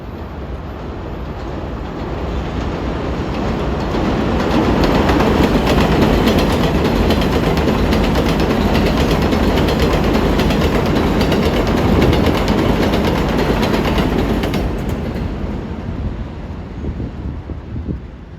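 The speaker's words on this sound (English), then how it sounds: "it's got another eastbound express coming" An eastbound express train on the elevated NYC 7 line roars past near 74th Street, a loud, sustained rumble and rattle of wheels on track lasting several seconds before fading, with wind buffeting the microphone.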